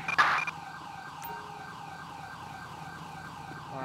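An ambulance siren in the video game GTA V wails in a repeating rising and falling sweep, moderately loud and steady, with a brief sharp burst at the start and no talk.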